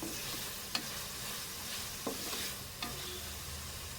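Chicken frying with garlic ginger paste keeps up a steady, even sizzle, punctuated by a few soft spoon taps as it is stirred in the pan.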